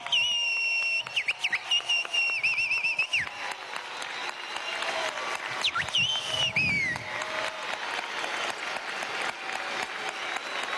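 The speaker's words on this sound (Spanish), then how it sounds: "Recibámoslo con un aplauso." An audience at a communicators' congress in Venezuela applauds to welcome Nicolás Maduro, dense sustained clapping with shrill whistles and crowd cheers rising and falling across the hall.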